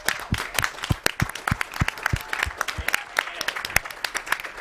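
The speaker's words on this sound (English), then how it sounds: "It's a massive round of applause to all the people behind this" A small group applauds at an E3 2016 show, with sparse, uneven individual claps rather than a dense ovation and some talking mixed in.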